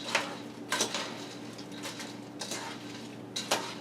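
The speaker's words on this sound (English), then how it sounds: "Now what we do is we just mix this all up." Croutons for a sausage and apple stuffing being mixed in a bowl, giving soft scraping and clinking bursts of utensil against dish in a few separate strokes, close and fairly quiet.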